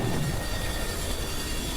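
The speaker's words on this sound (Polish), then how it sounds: "A przed nami jest chyba pociąg" Low, steady train rumble from the video game Estranged, a continuous rolling drone with faint rail clatter, fairly loud and close throughout with no talk.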